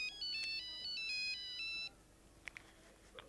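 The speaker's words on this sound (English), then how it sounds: "That's my phone ringing." A telephone rings indoors with a repeating electronic tone pattern for about two seconds, fairly clear and alone, followed by a few faint clicks and knocks.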